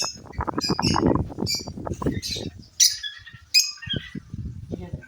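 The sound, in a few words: sparrows chirping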